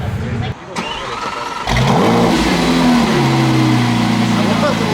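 A car engine cranks and catches, then settles into a loud, steady rumble that holds on after the start, with a voice briefly audible.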